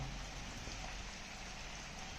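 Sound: light rain falling

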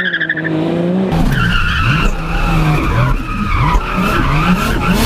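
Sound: Nissan 200SX drift car skidding, tires squealing

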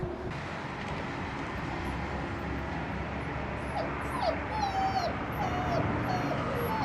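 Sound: puppies whimpering

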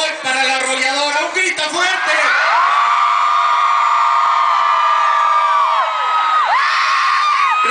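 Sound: crowd shouting and cheering at anniversary celebration

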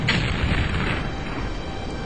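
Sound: gun shot in video game Terror From The Deep

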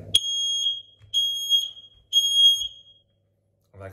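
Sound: smoke alarm test beeping

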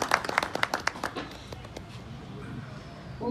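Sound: applause welcoming guests at an event

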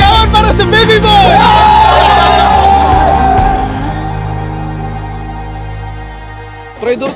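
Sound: group shouting for baby boy at gender reveal

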